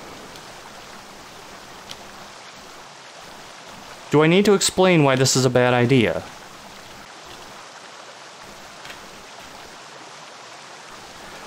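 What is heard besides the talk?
waterfall in a video game map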